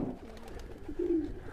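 Soft, low pigeon coos, a faint early call followed by a clearer, louder coo near the end, over quiet background noise.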